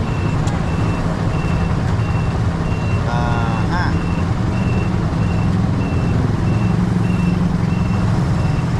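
Heavy traffic on a busy road beside a market, a loud continuous rumble of engines with a truck's steady reversing beeps repeating throughout and a brief horn-like tone in the middle, close by and without pause.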